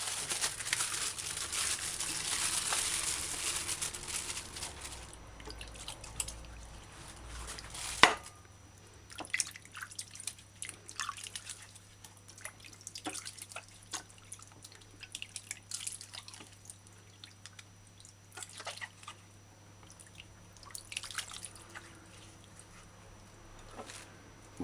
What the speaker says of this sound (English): Use your fingers, rub the skin of the papaya clean.